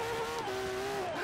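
A twin-turbo Ferrari F12berlinetta in Forza Horizon 3 runs down a rainy straight, its engine holding a steady droning tone that dips slightly in pitch then rises again, moderately loud with no talk.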